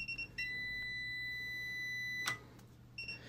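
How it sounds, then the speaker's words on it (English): A steady, continuous electronic beep from a Parkside PDM 300 C3 multimeter insulation test, signalling broken insulation, holds for about two seconds, with brief shorter beeps at the start and end over a low hum. "The long beep comes from this one as it shows broken insulation"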